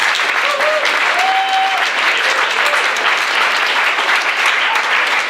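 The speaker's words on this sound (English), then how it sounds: "So a round of applause for what a hell of a time." A loud, dense round of applause from a panel audience rises right away and holds steady throughout, with a brief faint tone near the start.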